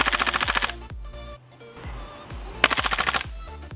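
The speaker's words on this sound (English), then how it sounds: "Let's see how fast this GHK G5 is shooting." A GHK G5 gas blowback airsoft rifle fires two rapid full-auto bursts of evenly spaced, sharp cracks, close and loud, with a short pause between strings.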